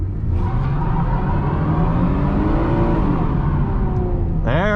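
2011-2013 Chevrolet Camaro 1LT V6 automatic pulling hard from a standstill with traction control off, a loud close engine roar rising steadily in pitch, then an upshift near the end.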